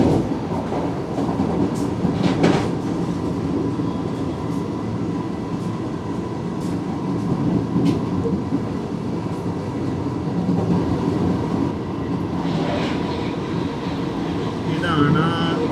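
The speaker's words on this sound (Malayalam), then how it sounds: "ഇതാണ് കോയമ്പത്തൂർ തിരുപ്പതി ഇൻ്റർസിറ്റി എക്സ്പ്രസ്." Coimbatore Tirupati Intercity Express passing near Veerapandi Road station, heard from aboard a Vande Bharat AC chair car. A steady loud rumble of rolling wheels and rail noise runs throughout, with faint clatter and a voice talking at times.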